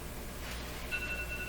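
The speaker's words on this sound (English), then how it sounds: "distracted by the alarm ringing." A telephone-like alarm starts ringing partway through as a faint electronic tone over steady background hiss, heard in a workshop beside a Nordmende Turandot tube radio.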